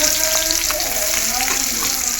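Chopped onions hiss and sizzle steadily in leftover oil just used to fry fish, a close, continuous frying sound with faint stirring clicks.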